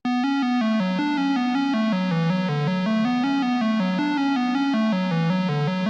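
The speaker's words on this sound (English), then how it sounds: "The square melody, it actually gets pitched an octave down." A square-wave synth lead plays a stepping melody pitched an octave down, steady and continuous, with a bright buzzy tone and no voices, in a hip-hop beat.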